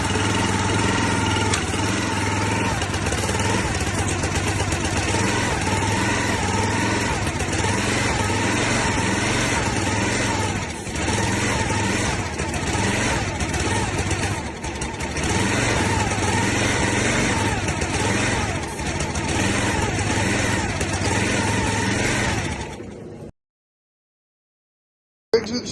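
Old log splitter engine, left sitting in the woods for five years, running steadily on brake cleaner: a loud, continuous small-engine drone that holds for over twenty seconds and then cuts out.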